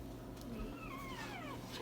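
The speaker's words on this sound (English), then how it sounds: "Don't meow at me." A cat on a kitchen table lets out a drawn-out, wavering meow close by, quiet against a low household hum.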